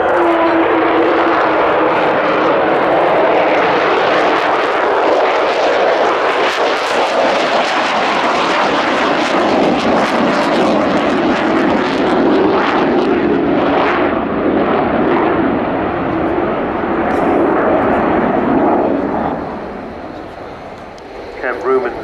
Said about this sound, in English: as Kev brings the Vulcan in along the runway, along the display line